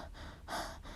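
Quick, heavy breaths, a short panting inhale and exhale close up, faint and breathy with no talking.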